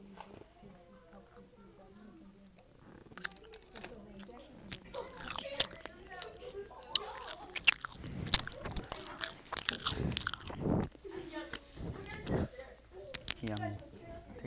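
A crunchy movie theatre pretzel stick is bitten and chewed up close: after soft speech at the start, a run of sharp, loud crunchy bites and chewing, with talk between them.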